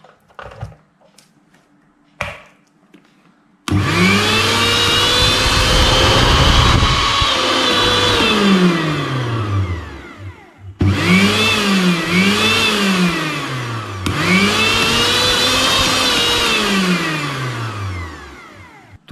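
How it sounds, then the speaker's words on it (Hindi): A jammed mixer grinder, just repaired, whirs loudly, its motor pitch rising and falling in repeated surges, cutting off briefly between runs after a few faint clicks. "ये मिक्सर ग्राइंडर कितना फ्री होकर चलना लगा"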